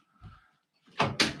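A door is opened or closed, giving two quick, close thumping impacts in a row after a faint softer rustle.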